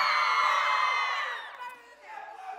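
Camp kids on the blue team cheer and whoop together, a loud, sustained crowd of young voices that swells for over a second, then breaks into scattered shouts and calls.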